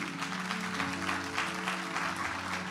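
A church congregation applauds through a service, a soft, steady patter of clapping beneath sustained musical tones, continuous for the whole stretch and fairly quiet.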